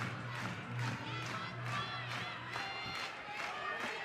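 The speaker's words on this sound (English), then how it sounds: "The crowd is electric right there" A college softball crowd cheers and roars during an NCAA game between Texas and Baylor, a sustained loud wall of voices with repeated swells and bursts, rally towels waving, no distinct speech.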